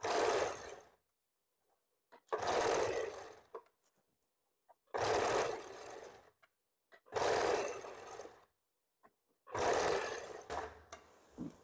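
Five separate bursts of a sewing machine stitching an umbrella frock, each about a second long, with near-silent pauses in between and close, loud motor whirring.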